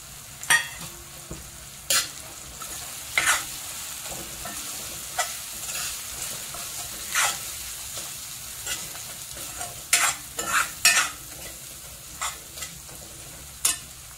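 Spices for a chicken kofta curry sizzle in a pan, with a steady frying hiss broken by repeated scraping stirs of a spoon, close and fairly loud.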